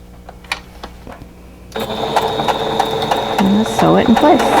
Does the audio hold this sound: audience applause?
no